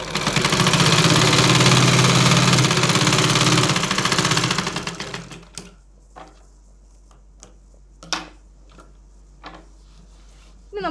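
Sewing machine running fast while stitching an invisible zip onto a churidar top, a loud continuous rattling hum for about five seconds that stops abruptly, followed by quiet handling sounds and a few soft clicks.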